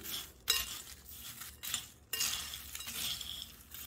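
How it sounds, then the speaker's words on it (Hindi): Salt and powdered sugar being mixed into crispy sabudana namkeen (sago chivda): soft, repeated rustling and clinking strokes of a spoon through the dry mixture in a bowl, close and quiet, without talk. "एक टीस्पून पाउडर शुगर इन सबको हम अच्छे से मिक्स कर लेंगे"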